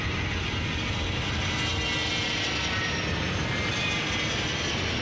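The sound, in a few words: jet aircraft team taking off at air show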